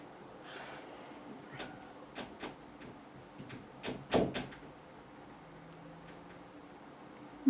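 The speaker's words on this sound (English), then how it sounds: "My cats are currently pawing at the door" Cats paw and scratch at a door in a quiet room, giving a scattered series of soft taps, scrapes and thumps with one sharper knock near the end.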